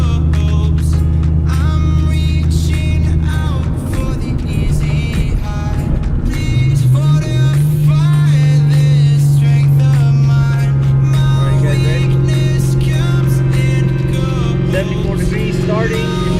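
Engine of a 2003-04 Ford Mustang Cobra droning steadily from inside the car during a hard pull, a loud continuous rumble that climbs in pitch around the middle and holds, with no break across the stretch.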